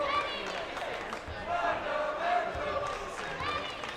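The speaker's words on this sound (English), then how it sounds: "Herriman student section cheering on their team." The Herriman high school student section cheers and chants during a boys basketball game against Pleasant Grove, a loud sustained crowd roar from the gym stands with a commentator talking over it.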